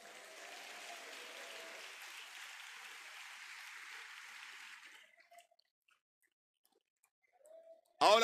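A church congregation applauding during a sermon, a dense, fairly quiet wash of clapping for about five seconds that cuts off into near silence, followed by a brief sound at the very end.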